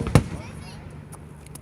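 A single loud July 4th firework bang in 2016 opens the moment, a sharp close boom followed by a fading, crackling tail and quieter distant pops in the background.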